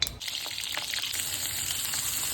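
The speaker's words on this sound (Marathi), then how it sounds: "आपलं आता तेल तापलेलं आहे तर त्याच्यामध्ये कारले सोडून देऊया" Stuffed bitter gourds sizzle and crackle steadily in hot oil, a close, continuous frying hiss with no voices.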